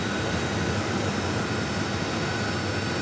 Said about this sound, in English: let's go to our next arrival on runway 8.